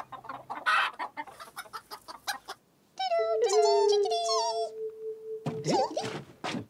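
Hens in a vegetable garden cluck in short bursts, then a long drawn, tonal call stretches for a couple of seconds before more quick clucks, fairly close and clear.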